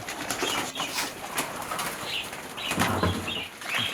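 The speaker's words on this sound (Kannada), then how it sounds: "ಪಾರಿವಾಳ." Pigeons kept among a household's animals and birds flutter and flap their wings in bursts over steady background noise, with faint cooing possible but not distinct.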